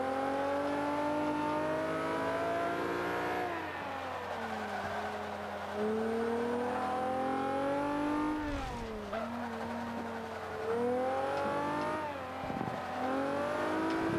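A Mitsubishi Lancer Evolution VI race car tuned for B class in Forza Motorsport 5 revs and accelerates hard, its engine note climbing through repeated gear changes with brief tire squeals, loud and continuous.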